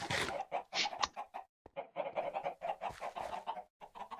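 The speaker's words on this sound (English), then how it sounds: "I also hope I don't fall into the chickens." Chickens cluck in a block-building video game while a player travels near them, a busy run of close, choppy clucks and squawks with brief gaps and no talk.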